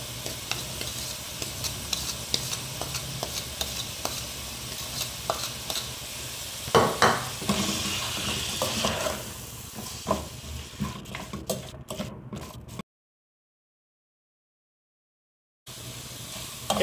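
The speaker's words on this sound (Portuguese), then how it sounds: "E agora, pessoal, a gente vai deixar refogar bem" Garlic sautéing with Bahian seasoning, annatto and salt in a pan, a moderate sizzle with stirring scrapes and utensil clinks, fading into a brief silence near the end.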